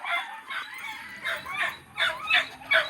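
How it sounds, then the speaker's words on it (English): Several dogs bark excitedly in rapid repeated bursts at a moderate distance, an agitated territorial chorus with no talking over it. "the dogs are going crazy right now"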